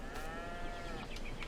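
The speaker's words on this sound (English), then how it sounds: "Moo to you too, Mrs. Cow." A cow moos in a forestry video game, a drawn-out lowing call that rises and fades against steady game ambience.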